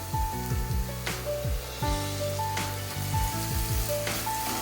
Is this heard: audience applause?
no